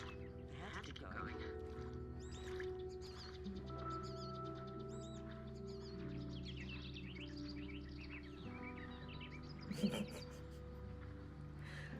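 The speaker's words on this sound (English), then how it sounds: "those birds are loud as fuck, so they can be loud" Loud wild birds chirping and calling outdoors in a quiet spot, repeated short tweets scattered through the stretch over a droning background with a voice-like hum, plus one brief sharp noise near the end.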